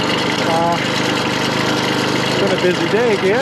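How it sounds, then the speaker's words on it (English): A farm tractor engine runs steadily at idle, a constant mid-pitched drone beneath someone talking close by. "Take my tractor back."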